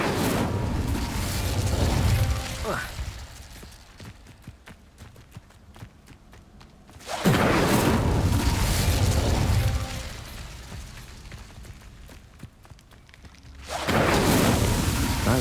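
Incendio fire spell cast in Hogwarts Legacy, heard as two loud bursts of flame, each a broad roaring flare lasting a few seconds, with quieter game ambience between them.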